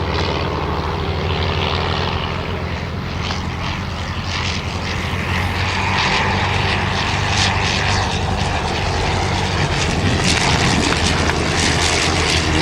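Rough, loud rotary engine roar from a vintage triplane at an air show, a gritty sputtering drone that swells slightly toward the end, no voices present.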